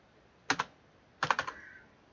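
A few clicky keystrokes on a computer keyboard while typing Nepali Unicode, a quick pair of taps and then a short burst of four or five, close and clear in a quiet room.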